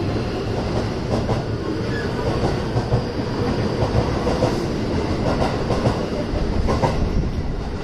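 A JR Class 207 electric train pulls out of Amagasaki station, its wheels clattering and rumbling loudly and continuously at close range as it gathers speed along the platform.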